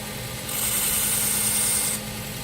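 Belt sharpener running at slow speed with a 3000 grit belt while convex bevel scissors are ground at a 45 degree angle, a steady close hum with a higher hiss rising for about a second and a half of contact.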